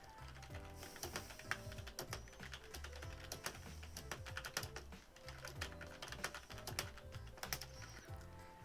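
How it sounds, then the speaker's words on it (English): Steady rapid typing on a computer keyboard at a livestreamed birthday Q&A chat, dense clattering keystrokes running the whole time, close and fairly loud with no talk over it. "Sorry, typing."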